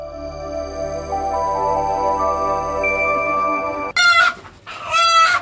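A village rooster crows loudly twice near the end, close by, after several seconds of steady music-like tonal background; clucking fowl sounds blend in.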